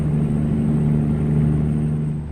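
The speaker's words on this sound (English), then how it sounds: "It sounds like a straight pipe right there." A Peterbilt 389 truck with a straight pipe exhaust in a driving video game gives a steady, low, rumbling engine drone that holds constant throughout, with no talking.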